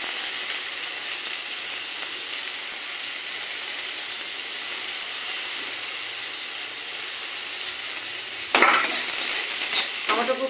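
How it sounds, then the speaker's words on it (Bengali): Onions frying in a pan with chopped tomato and ginger, a constant close sizzle and hiss, with a louder burst near the end as the ingredients are added. "পেঁয়াজটা আমার ভাজা হয়ে গেছে, এবার টমেটো কুচি দেবো আর এখানে আদা কুচিটা দিয়ে দেবো"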